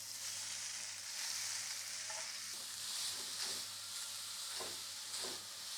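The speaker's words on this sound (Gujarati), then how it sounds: "ગાજરની છીણને ધીમા તાપે 5 થી 7 મિનિટ સુધી ઘીમાં શેકવી" Grated carrot roasts in ghee in a pan over low heat, giving a soft, continuous sizzle and hiss broken by a few faint scraping stirs.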